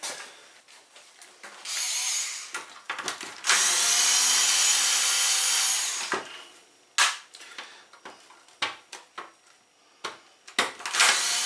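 Leaf blower being taken apart, with a power screwdriver whirring in two sustained bursts, the second longer, followed by a series of sharp clicks, knocks and brief rattles of parts being handled close up.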